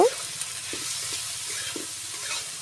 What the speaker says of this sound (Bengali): এবার ভালো করে নেড়ে চেড়ে দেব